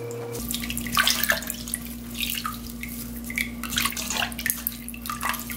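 Water parsley (minari) rinsed under a running kitchen tap, a steady close splashing stream with small drips and handling sounds, no talk.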